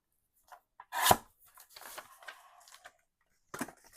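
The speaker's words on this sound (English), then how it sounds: "let me just get a piece cut for now" Scissors or a blade slicing a piece of paper for a junk journal: a few sharp crisp snips and rustles, one loud cut near the start and another short burst at the end, quiet between.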